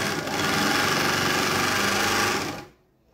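A straight-stitch sewing machine runs through a piece of flat-woven denim in one steady, fast whirring burst of about two and a half seconds. Then it stops abruptly into near silence.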